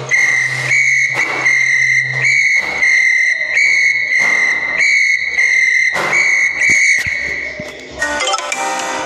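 A shrill whistle blows in a series of short, sharp, repeated blasts, loud and close, with a brief metallic clatter at the end.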